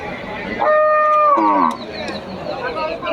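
A single loud, close cow moo rises over the busy murmur and clatter of a crowded cattle market in Bangladesh selling pregnant and dairy cows.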